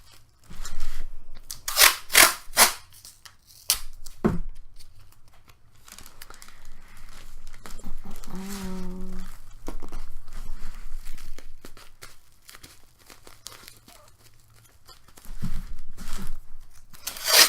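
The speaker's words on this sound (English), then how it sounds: "Alright, so I'm just taping up my shoes." Adhesive tape pulled from a roll and torn while wrapping shoes to build cosplay shoe armor: loud crinkling rips and tearing bursts near the start, then quieter rustling handling, with another burst of tearing at the end.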